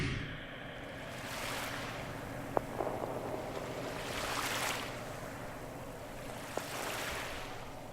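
Ocean waves ambience sample in a music track: a steady wash of surf swelling and receding in slow surges, with a couple of faint clicks, soft and continuous without talking.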